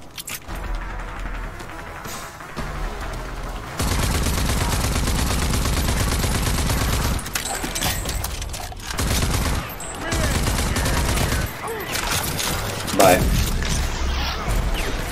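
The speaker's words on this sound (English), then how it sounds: "That was RPG fly past my head just now." Sustained gunfire with bursts of automatic weapons and a rocket-propelled grenade whooshing past in the shooter game Rage 2, loud and continuous for the whole stretch with someone talking over it at times.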